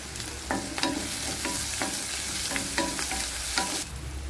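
Onions sauté with curry leaves and green chilies in a pan, a constant sizzle punctuated by regular spatula scrapes and taps, close and fairly quiet, with no voices.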